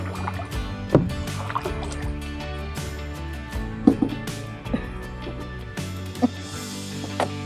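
Kayak paddling down the Juniper Springs run in Florida, with soft rhythmic paddle splashes and water knocking against the hull every second or two over a low steady background.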